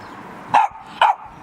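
A dog barks twice, loud and close, in a short home recording, the two sharp barks spaced about half a second apart over a quiet background.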